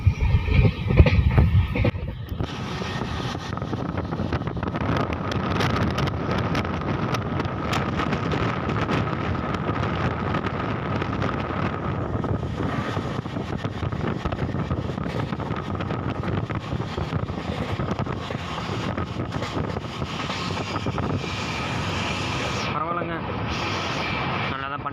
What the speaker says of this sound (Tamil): ஃபோனை வெளியில் கட்டின ஃபோன் பறந்துட போகிறோங்க, அந்தளவுக்கு காற்று ஆடுது.